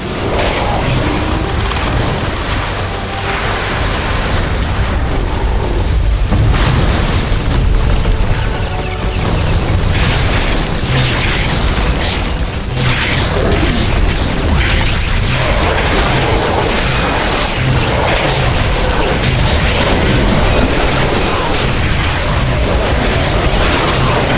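Buildings exploding under attack in the video game The Riftbreaker, a loud, continuous barrage of booms, crashes and crumbling debris filling the whole stretch with dense battle noise.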